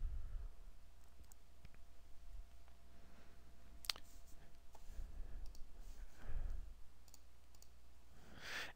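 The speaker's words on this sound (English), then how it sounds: "I'm going to click apply." A single sharp computer mouse click lands on an apply button, a brief faint tick amid quiet room noise with a few softer clicks around it and no speech.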